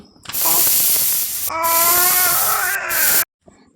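A pressure cooker cooking toor dal for bele sambar, with salt, cumin, turmeric and water, lets out two shrill steam whistles. A short blast is followed by a longer one whose pitch rises before it cuts off abruptly.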